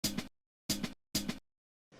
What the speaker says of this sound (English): I have these two hi-hat things that I got from a drum break